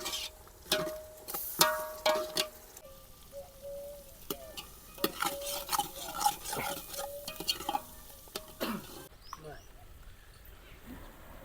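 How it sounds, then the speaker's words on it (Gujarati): Chopped onions fry in a pan during village-style prawn masala gravy cooking, with repeated loud scraping stirs of a spatula over a steady sizzle and faint background sounds. "દસ મિનિટ જેવું ડુંગળી આપણે થવા દઈશું."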